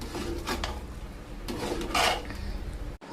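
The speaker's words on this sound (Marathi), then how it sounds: "आता चांगलं मिक्स करून घ्यायचंय." Yogurt being stirred into bagar in a pan with the gas off, giving soft repeated scraping and rubbing strokes of a spoon against the pan, ending in a brief knock.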